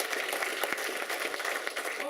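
Applause at a press conference for the UCMMA 23 mixed martial arts event, a steady wash of clapping hands from a crowd lasting throughout, with some voices mixed in.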